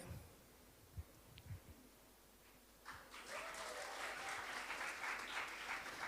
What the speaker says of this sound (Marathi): प्रत्येक स्टुडंट आपल्या टीचरसाठी टाळ्या वाजवतो